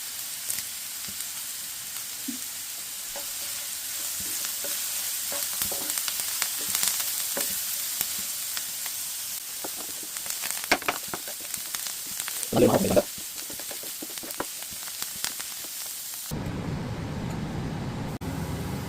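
Whole spices and two or three curry leaves fry in hot oil in a pan for an egg roast. A continuous close sizzle runs throughout, with occasional stirring scrapes and a brief louder crackle near the end.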